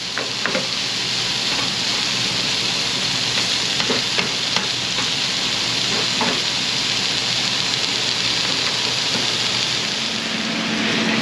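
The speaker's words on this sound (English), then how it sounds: "our steak is really starting to cook real nice" Sliced steak for Philly cheesesteak sizzling loudly and steadily in a hot pan, a dense close hiss with occasional crackles and spatula scrapes, no talk.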